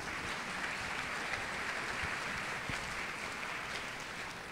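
A graduation ceremony audience claps to welcome a speaker: dense, even applause from a crowd that holds steady throughout without letting up.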